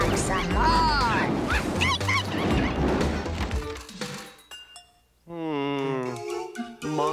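A cartoon puppy barks, yips and whimpers in the My Pet Monster cartoon. The sounds come over busy crashes and cartoon voices, and high whimpering whines rise clearly near the end.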